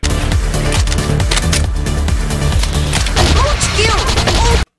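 An M14 rifle fires in a video game as a dense, loud run of gunshots and booms, nearly continuous and close, with game effects layered over the shots.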